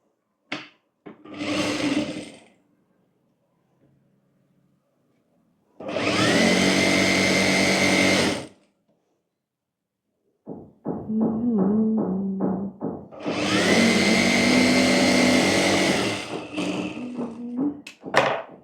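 A sewing machine runs in two sustained bursts of a few seconds each, stitching a folded collar on a summer co-ord set coat, with short clicks and fabric handling in the quieter gaps.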